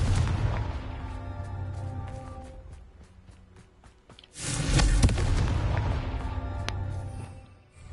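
Confringo blasting spells go off in the Hogwarts Legacy video game as booming explosions, a rumbling blast followed by a second louder burst with crackling debris, surrounded by dense game effects and music.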